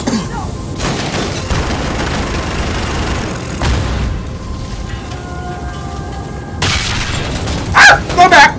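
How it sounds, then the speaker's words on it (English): Grenade blasts in the 2019 Call of Duty Modern Warfare game, heavy booms and crackling gunfire running almost nonstop, with loud bursts near the end and game chatter mixed in. "Stop throwing grenades, assholes!"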